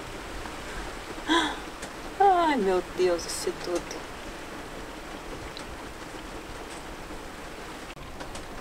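Heavy rain falls steadily on a sailboat in Croatia, a constant close wash of noise under a few short exclamations from a voice.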